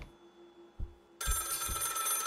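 A telephone rings in a horror video game, with a loud bright electronic ring that starts abruptly after a couple of soft thumps and continues steadily.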